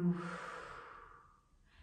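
A single slow, deep, relaxed exhalation during seated desk yoga breathing, soft and airy, close to the microphone and tapering away gradually.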